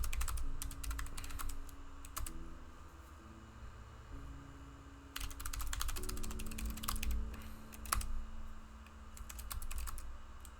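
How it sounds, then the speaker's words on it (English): Bursts of fast computer keyboard typing into an in-game chat, clattering keystrokes in clusters separated by pauses, close and moderately loud over a low steady hum. "I'm just like typing up in the game chat."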